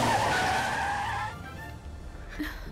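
A car screeches up close behind with loud skidding tires and a roaring engine in a scene from a South Indian action film dubbed in Hindi, then the noise drops away to a quieter rumble with a brief later squeal.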